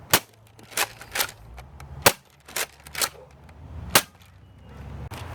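A K26 Roto Fury dart blaster fires standard foam darts in a string of about nine sharp, snappy cracks at uneven intervals, close and distinct against a quiet background.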